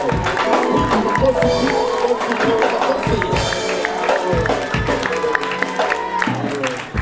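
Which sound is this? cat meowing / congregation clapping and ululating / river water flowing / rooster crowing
congregation clapping and ululating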